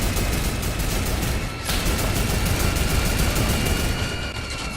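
Continuous gunfire in a shooter video game, a dense, steady wall of rapid shots and noise with one brief dip midway, loud and unbroken throughout.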